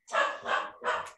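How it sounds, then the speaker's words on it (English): A dog barks three times in quick succession, loud and close indoors, each bark sharp and full, with no talking over it. "sorry, my dog's going bananas here"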